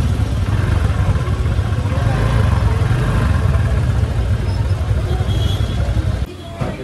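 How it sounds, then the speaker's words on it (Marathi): Heavy evening traffic on Mall Road in Manali, with cars and motorcycles, makes a continuous low engine rumble and clatter that stays loud throughout, while people talk nearby. "आणि जाम ट्रॅफिक आहे इकडे"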